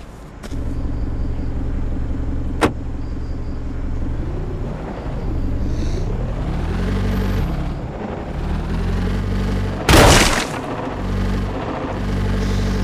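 A car engine rumbles steadily in the mobile driving game Grand Criminal Online, rising and falling in pitch as it accelerates, with a brief tick early on and a loud crash or impact burst near the end.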